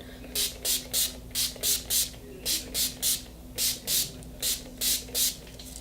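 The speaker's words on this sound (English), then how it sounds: "This is my favorite oil control setting spray." Rapid spritzes of oil control setting spray, about sixteen short hissing puffs in quick groups, close and crisp over a quiet background hum.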